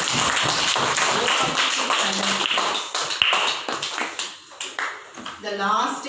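Children in a classroom clap together in a brisk burst of many quick, sharp hand claps, with voices audible around them.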